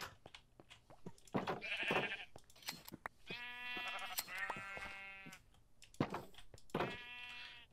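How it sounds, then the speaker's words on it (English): Sheep in a Minecraft-style block-building game bleating several times, with long wavering cries spaced across the clip, close and clear over a quiet background. "Alright, run away from the sheep."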